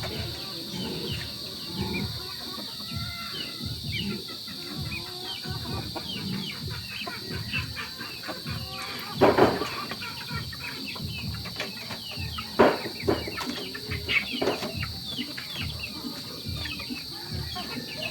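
Japanese Shamo chickens of a heavy Dumpo strain in a backyard, giving repeated short clucks and scratchy calls at moderate distance, with a couple of louder bursts and a constant high electrical whine behind.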